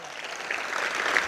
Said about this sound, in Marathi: एकदा त्यांच्यासाठी जोरदार टाळ्या वाजवा